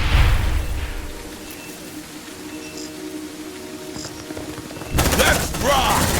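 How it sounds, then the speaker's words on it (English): Grenade explosion and gunfire in the video game Aliens Dark Descent: a low rumble with scattered distant shots, then a sudden loud burst of rapid gunfire near the end, under game ambience. "Grenade!"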